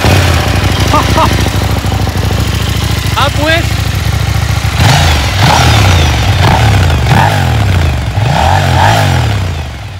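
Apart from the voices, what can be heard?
motorcycle engine revving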